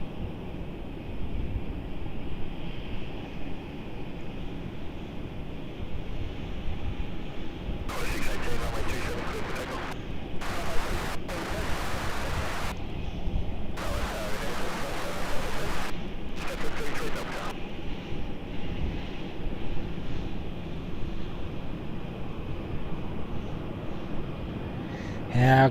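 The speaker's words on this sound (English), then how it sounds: "And we've got over here, sorry for not zooming out there, Thai 350, my favourite aircraft." A Thai Airways Airbus A350 at Melbourne Airport gives a steady, continuous jet roar that holds throughout, with louder broadband gusts surging through the middle stretch.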